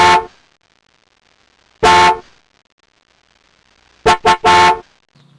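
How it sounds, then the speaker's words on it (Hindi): A car horn blares four times, one short honk near the start, another alone, then three quick toots in a row, loud and close. "अचानक सड़क के उस पार से किसी गाड़ी का हॉर्न बजा"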